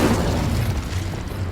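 An explosive spell goes off in the Hogwarts Legacy video game: a brief, loud, low boom with a rumbling burst that lasts about a second and a half, with no voices over it.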